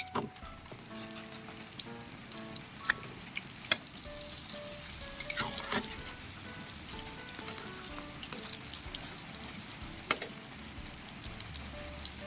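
Tortang kangkong, a water spinach omelette, frying in oil in a pan, with a steady close sizzle, occasional sharp pops and faint utensil clicks and no talk.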